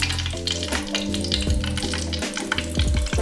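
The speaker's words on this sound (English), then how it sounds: "I've just heated up some vegetable oil in my frying pan" Dhal and saltfish pies sizzle and crackle steadily in hot vegetable oil in a frying pan, with a few soft clinks and scrapes in the pan.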